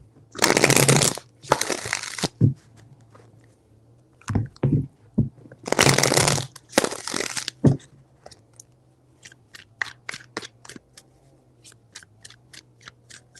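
Tarot cards are shuffled in bursts, two loud riffling runs each followed by a few soft taps, then a string of light clicking card sounds fading out near the end.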